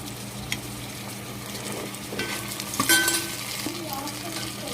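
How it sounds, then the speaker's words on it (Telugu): Ginger garlic paste frying in hot oil for a mutton curry, with a steady close sizzle and scattered scrapes and clinks of a spoon stirring against the pan, no talking. "ఇప్పుడు మనం దీనిలో అల్లం వెల్లుల్లి పేస్ట్ వేసుకుంటున్నాం."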